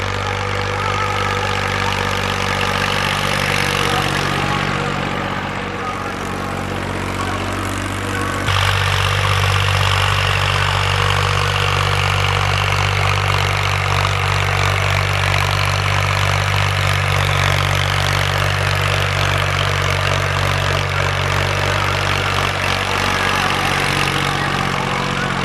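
A tractor ploughing a wheat field gives a continuous engine drone at moderate distance, and its tone and pitch shift audibly about a third of the way through before holding steady again.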